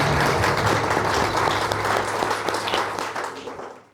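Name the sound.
audience applause at launch party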